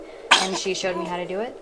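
A single short, sharp sneeze bursts out, followed right away by someone talking.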